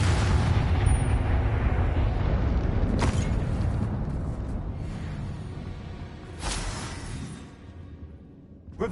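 An Expulso blast in Hogwarts Legacy lets out a thick, roaring explosion that fills the whole stretch and slowly tapers off, with two sharper bursts rising out of the din along the way.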